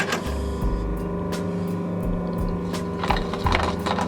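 A sewing machine runs a few stitches and a back tack through scrap net, giving a steady close mechanical whirr with rapid needle ticking and a few brief shifts in pace.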